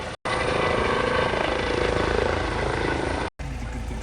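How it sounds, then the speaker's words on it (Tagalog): A helicopter passes near a playground, a steady loud rotor and engine drone that fills most of the clip, broken by two brief cuts. "Helicopter, oh. Galing sa ospital."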